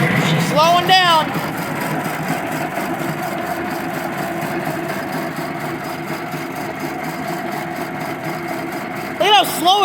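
A cheap, failing air compressor motor labours with a low, uneven droning hum that wavers as it slows down, continuous and fairly close. Voices break in briefly at the start and near the end.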